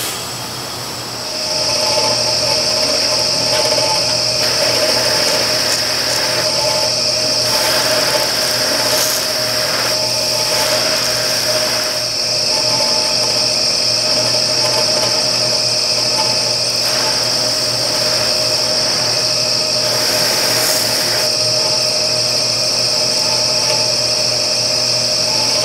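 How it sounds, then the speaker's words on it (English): A motor-driven buffing wheel used for polishing knives whines in a steady, loud, high-pitched drone with a constant hum underneath, running alone for the whole stretch. "Switch out the buffing wheels here."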